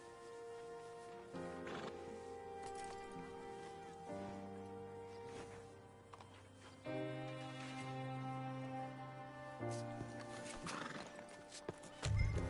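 Low, sustained tones with a few faint thumps play under a quiet ambient background in Red Dead Redemption 2; no clear whinny or hoofbeats stand out.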